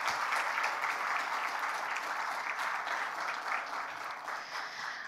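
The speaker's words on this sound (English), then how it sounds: "Can we have a huge round of applause to organizing team?" An audience at the Wai Wai Glocal Teen Hero Nepal 2022 award gala claps steadily, a dense, sustained round of applause from a large crowd heard from a slight distance, with no voices over it.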